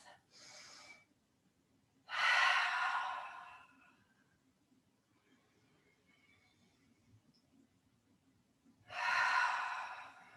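Slow, audible breaths during a yoga flow, in two short drawn breaths near the start and a deeper one at the end, separated by quiet stillness, close and soft.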